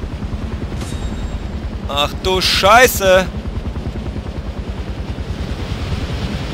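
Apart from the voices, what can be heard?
helicopter in video game Far Cry 4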